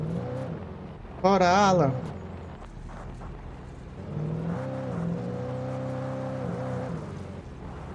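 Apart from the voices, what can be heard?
car driving in Alan Wake Remastered video game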